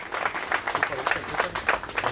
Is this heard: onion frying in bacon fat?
no